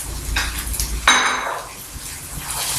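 A utensil stirs chopped onion, garlic and spicy pepper in a cooking pan, giving soft scraping strokes with one sharp metallic clink near the middle, all close up and quiet.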